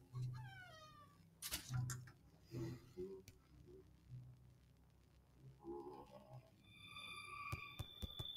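A cat meowing in the horror game Clown in a House: a few short, quiet mews near the start, then warbling electronic tones and bright pings from the game, with a voice talking faintly underneath.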